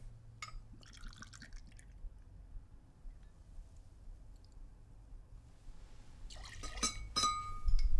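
Booker's 30th bourbon whiskey poured into a glass for a sherry cocktail: a short trickle early on, a quiet pause, then a louder splashing pour with clinks of glass near the end.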